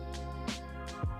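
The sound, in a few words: dog snoring loudly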